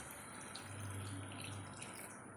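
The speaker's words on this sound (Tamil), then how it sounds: "கொஞ்சமாக தண்ணி சேர்த்துட்டு நல்லா வந்து கலந்து விட்டுடலாம்." Water is poured steadily into a cooking pan holding salted, chopped banana stem, a continuous soft rushing splash lasting a couple of seconds with no talking over it.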